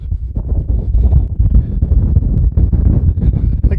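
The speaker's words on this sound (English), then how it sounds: "But it is windy" Strong wind buffets the microphone on an exposed mountain summit in Donegal, Ireland, in a constant low roar, gusting and rumbling throughout with no voices.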